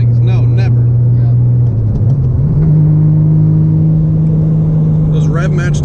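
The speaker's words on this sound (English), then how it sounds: "Those rev match downshifts are buttery smooth also." Engine of a 900+ hp right-hand-drive Nissan R34 GTR with an RB26 engine, heard from the cabin as a steady drone with a brief dip and blip around a downshift, then holding a higher pitch; voices talk over it.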